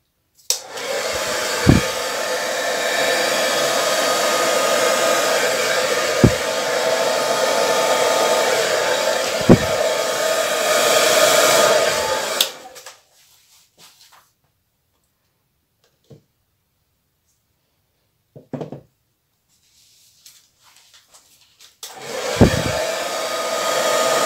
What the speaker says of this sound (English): When I blow the paint out, I'm not going to go at 90 degrees.